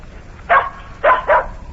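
A dog named Bunny barks three times nearby, a single yap followed by a quick double bark, loud and clear over a quiet background.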